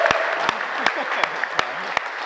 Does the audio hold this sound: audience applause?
yes